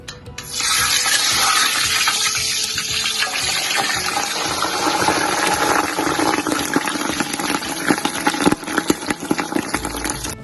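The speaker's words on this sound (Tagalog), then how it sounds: "sobrang init ng mantika. Ilagay ko na yung pata." A pork knuckle rubbed with salt goes into very hot oil for deep frying, setting off a loud, steady broadband sizzle and roar that holds for about ten seconds, with sharper crackles and pops near the end.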